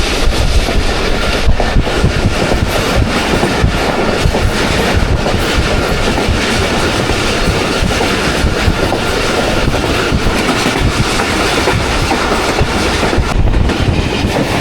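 Shah Hussain Express running through Liaquatpur railway station, a loud, continuous rolling rumble with steady clickety-clack from the wheels that lasts the whole stretch, with no talk.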